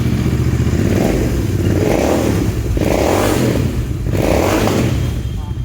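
A loud motorcycle with an aftermarket exhaust revs repeatedly up close, each throaty burst rising and falling in a rhythmic pattern, with voices partly heard underneath.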